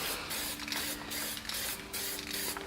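A can of light blue spray paint hisses in a series of short bursts, each a second or less, with brief gaps between them, fairly close and steady, as the paint is faded over background trees.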